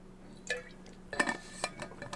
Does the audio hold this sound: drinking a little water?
yes